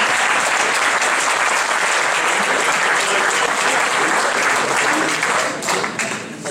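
Sustained, dense applause from a large audience at a political New Year's greetings gathering, loud and steady for several seconds before thinning slightly toward the end.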